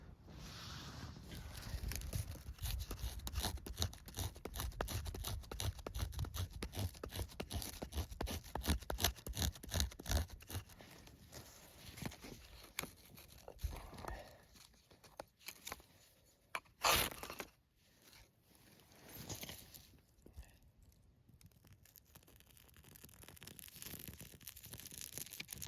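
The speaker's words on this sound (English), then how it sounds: "So I also got this very nice fire steel from Uberleben called the Craftig. So it's a 5-inch ferro rod with a ½ an inch diameter." A 5-inch, half-inch-diameter ferro rod fire steel is scraped repeatedly to light a fire in a camp stove, rapid rasping strikes in quick bursts, close and fairly loud, then thinner scrapes and a crackle.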